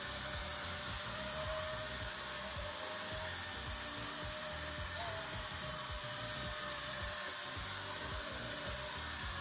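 A DroneX Pro toy drone hovers in place close by, its motors giving off a continuous high-pitched whine with a steady buzz throughout.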